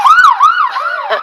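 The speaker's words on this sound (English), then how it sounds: "Of course, there would be an ambulance going by as I'm trying to do this." Wailing ambulance siren passing by, loud and close, its pitch sweeping up and down in repeated cycles and shifting slightly lower toward the end as it goes past, with no talk over it.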